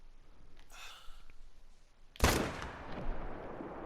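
A single sharp rifle shot fired at a gray wolf in a hunting video game bursts out loudly midway, then a fading rumble, after quieter ambient sounds and a soft breathy noise.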